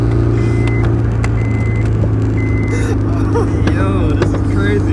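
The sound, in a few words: Honda S2000 car driving without a clutch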